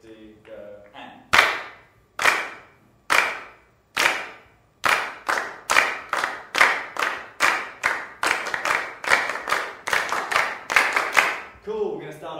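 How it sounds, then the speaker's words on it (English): A group claps out a steady rhythm together, sharp unison claps starting sparse and then speeding into a quicker, regular pattern during a circle clapping game, with brief voices at the start and end. "Clap out loud."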